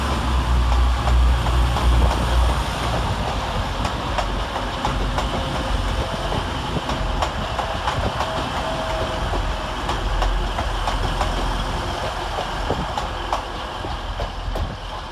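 A Class 185 TransPennine Express train runs through Sheffield station on a Manchester Piccadilly to Cleethorpes service, giving a steady loud rumble with faint wheel clatter and no voices.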